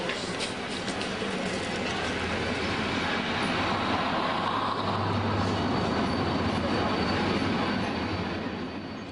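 An overnight sleeper train from Cairo to Luxor rumbles along in a steady, dense roar with rattling carriages and faint wheel noise throughout, heard from inside the train with no clear talk.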